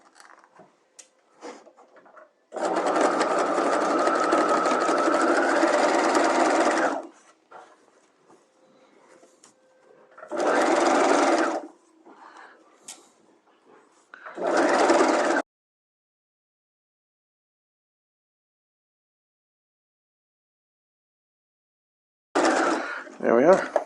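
A sewing machine runs in three bursts, a long stitching run then two shorter ones, as a waistband is sewn onto a garment at a half-inch seam with backtacking, with quiet handling noises between and a brief sound at the end.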